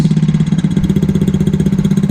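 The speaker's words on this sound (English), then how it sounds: "I've been letting the pocket bike idle for about 3 to 5 minutes" An X15 pocket bike engine idles up close, loud and steady, with a fast, even, throbbing putter and no voices.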